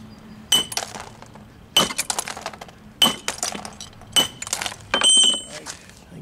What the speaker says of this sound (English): Now I rock face this, keep hitting that camera, and I rock face this side